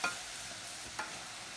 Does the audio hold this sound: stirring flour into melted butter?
yes